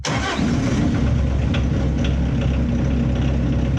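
A Bobcat engine with a suspected head gasket fault, burning coolant fast, cranks and catches at once, then settles into a loud, steady, rough idle close by with no talking.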